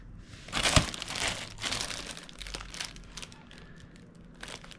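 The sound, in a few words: plastic packaging being opened and crinkled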